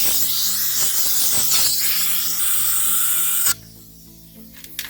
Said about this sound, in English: we got ourselves a nozzle and we're gonna blow this dirt on out of here